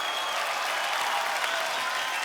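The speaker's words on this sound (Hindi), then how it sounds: "ये तालियां जैकी जी के लिए बजाइए" A studio audience at a comedy show breaks into applause, a dense, even wash of clapping that stays steady and fairly loud throughout.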